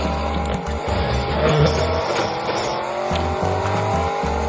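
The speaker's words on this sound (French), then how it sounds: "On va finir à partir dans cette voiture là." A car in the Fortnite video game drives with a loud, constant engine drone and squealing tires that skid repeatedly, heard up close throughout without speech.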